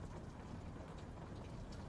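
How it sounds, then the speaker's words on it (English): Steady rain falling in the horror video game Night Security, a dense, even hiss with low rumble that holds unchanged and fairly quiet throughout, with no talking. "It's raining."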